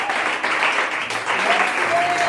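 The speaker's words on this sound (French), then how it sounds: "Est-ce qu'on peut applaudir ici?" A church congregation bursts into dense, continuous applause, loud and close, with a faint tonal whistle or voice trace riding over the clapping near the end.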